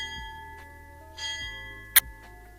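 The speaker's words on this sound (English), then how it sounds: "The bell invites me." A single bright bell strike rings out in a vintage 1967 BBC radio drama of Macbeth, standing alone against a low, steady background hum.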